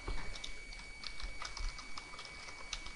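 Key presses on a computer keyboard as a username is entered at a login screen, a quick, fairly steady run of light clicks close by, with no talking.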